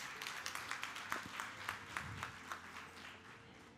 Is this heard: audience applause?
yes